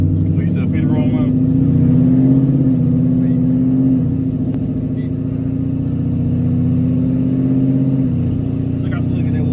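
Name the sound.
gutted 10-speed Ford Mustang downshifting and accelerating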